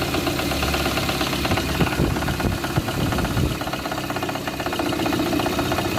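A car engine with a knocking fault runs steadily and loudly up close, a dense rhythmic tapping laid over the rumble of the idle, with no voices.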